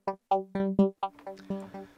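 A Diva software synth plays an odd, tonal patch in a string of short, rhythmic stabs, each with a strong fundamental and stacked harmonics, the later notes turning rougher and noisier, heard up close with no other sound.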